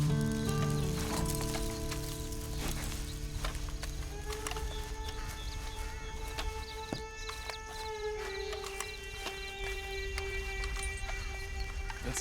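Horse hooves clip-clopping in the video game Red Dead Redemption 2, soft and steady under ambient game music and tones, faint and at a moderate distance.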